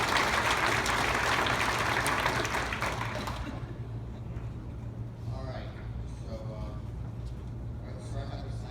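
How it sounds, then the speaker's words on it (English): Audience applause for a speaker at a talk: broad, dense clapping fills the first three seconds, then fades to a quieter murmur of room noise with a low steady hum. "let's give him a big round of applause"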